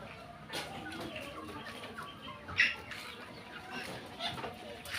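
Soft, scattered clucks from chickens near a home, with one brief squawk midway and a voice talking faintly underneath.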